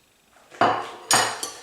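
Jamaican curry powder being mixed through goat meat in a bowl, heard as a few sharp clinks of a utensil against the dish: two strong knocks and a softer third, close and alone.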